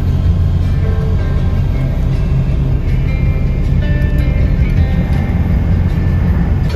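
A white dually pickup truck driving off, a loud continuous low engine rumble with road noise throughout, steady and close.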